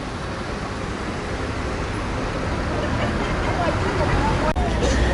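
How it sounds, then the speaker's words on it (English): Black tour bus moving through busy city traffic in Casablanca, Morocco, heard as a steady, loud roadway rumble that builds slightly toward the end, with a brief sharp knock near the close. "There's my tour bus, that black bus there."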